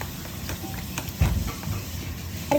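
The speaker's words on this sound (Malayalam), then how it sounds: "ഇനി നമുക്ക് സ്പൂണ് ഇളക്കി കൊടുക്കാം." A spoon stirs a beaten egg mixture for an omelette in a bowl, giving a soft, continuous scraping and sloshing with a slightly louder swirl midway, close by and without talk.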